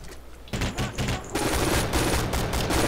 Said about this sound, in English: I'm down again because there's guys shooting me from every fucking direction